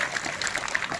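Water is poured into a container during a classroom experiment, a short, close trickling and splashing sound that goes on without a break.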